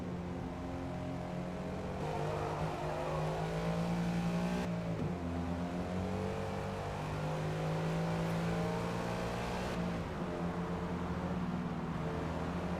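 Race car engines drone through Forza Motorsport, their revs rising and falling across gear shifts in one steady, moderately quiet stretch with no talk.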